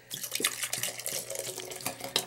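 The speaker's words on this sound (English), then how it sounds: "let's give it a little bit more of a pour here" Craft beer is poured into a glass, giving a gurgling, splashing liquid stream with small irregular glugs and fizzing, close and moderately quiet, with no talk.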